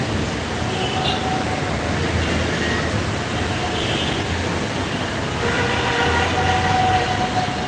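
A Dhaka metro rail train passes overhead at Shewrapara on a rainy day, a steady, loud, rolling roar that holds evenly throughout with faint higher squeals.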